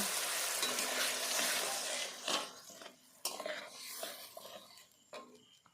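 Water splashes into spices frying in a pan, giving a loud burst of hissing sizzle that slowly fades, followed by softer crackling and a few light clinks of stirring in a home kitchen.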